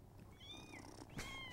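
A cat gives two soft meows, the first drawn out and the second shorter. Both are faint and close, over quiet background noise.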